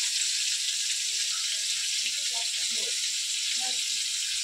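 Hilsa fish curry with onion, tomato and potato cooking in a pan, a steady hiss of frying that stays even and constant throughout, with faint voices murmuring in the background.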